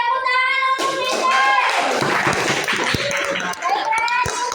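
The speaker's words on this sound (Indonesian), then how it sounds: "tepuk tangan untuk Siti" A classroom of students applauds a classmate, a burst of clapping that starts abruptly and carries on for several seconds, with children's voices and talk over and around it.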